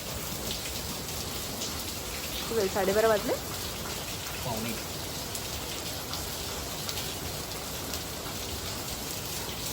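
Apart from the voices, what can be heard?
heavy rain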